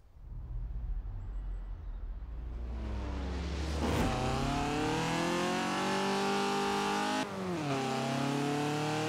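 A 1980 Fiat 124 Sport Spider launches in a Forza Horizon 4 drag race, its engine climbing from idle into a loud, rising rev, dropping briefly at two gear shifts before pulling up again.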